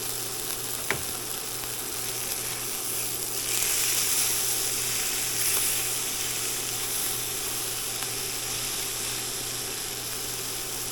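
Onions frying in a pan as they caramelize, a steady close sizzle that holds throughout with only a brief louder swell and no talking over it.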